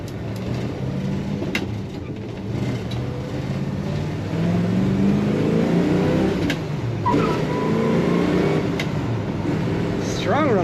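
A 1965 Chevrolet Malibu Sport Coupe with a four-speed manual runs steadily, its engine a loud continuous rumble that swells slightly partway through, with a voice talking over it.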